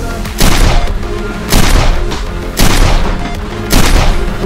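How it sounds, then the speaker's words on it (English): Nerf blasters fire darts in four loud, close bursts, each a sharp mechanical thump with a whirring rush, spaced about a second apart during a scooter versus battle racer game. "It's firing!"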